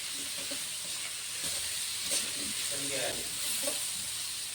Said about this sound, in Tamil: மசாலாவோடு சேர்ந்து காய் நல்லா வணக்கி எடுத்துக்கலாம்